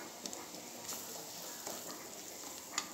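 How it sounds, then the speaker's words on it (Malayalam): Crushed ginger and spices sautéing over medium flame in a pan for fish biryani, a faint steady sizzle with occasional light stirring scrapes and clicks, no talk. "ഒരു മീഡിയം ഫ്ലെയിമിലിട്ടിട്ട് നമുക്കിത് വഴറ്റിയെടുക്കാം."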